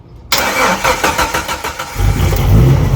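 A 1998 Jeep Wrangler engine cranking on a new battery with old fuel, a quick rhythmic starter churn that catches and settles into a loud, close idle.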